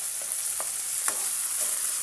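Chopped tomatoes fry in a pan with a steady, quiet sizzle while a few soft scrapes of stirring sound close by.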